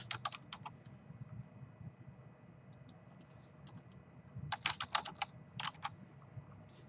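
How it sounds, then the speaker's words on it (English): Typing on a computer keyboard: bursts of quick, close key clicks with pauses between, fairly quiet over a low background hum. "I'm not selecting it. I'm just typing it."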